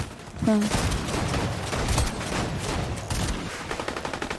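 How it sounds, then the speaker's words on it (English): Gunfire from a video game rattles out in rapid bursts and scattered single shots, fairly loud and close, forming a dense fusillade across the whole stretch. "I see some shooting going on here, so I start to push."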